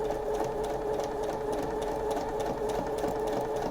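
Sewing machine stitching steadily across a centered zipper with a coil, a continuous even mechanical whir that runs unbroken from start to finish.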